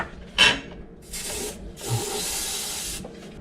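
Short bursts of WD-40 sprayed from an aerosol can into a threaded bolt hole during a nut and bolt repair, a sharp hiss near the start followed by two longer, steadier sprays, close and fairly loud with no talk.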